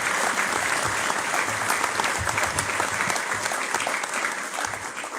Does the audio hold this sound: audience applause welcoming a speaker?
yes